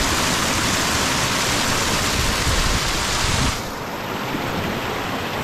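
A river tumbling down a waterfall roars as a loud, dense, continuous rush of water close by, easing slightly in the last couple of seconds but never pausing.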